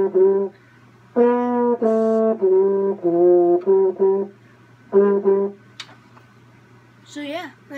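A French horn plays repeated short, clear sustained notes in separated phrases, close and moderately loud, including paired notes on the same pitch, with a quiet gap near the end.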